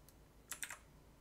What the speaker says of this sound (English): Sorry, I'm using a mechanical keyboard today.